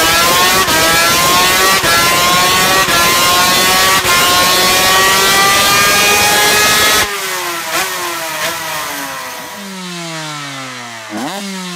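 A Suter MMX 500, a 576 cc two-stroke racing motorcycle, revs loudly and steadily at high pitch, then drops off and blips through several sharp throttle rises and falls near the end, with no talk.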